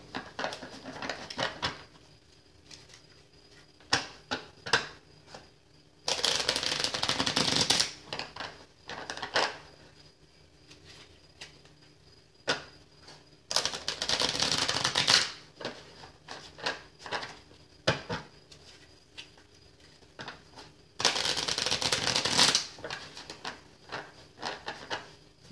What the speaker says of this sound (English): I've already picked your oracle cards right here, and I'm just going to shuffle these a little bit.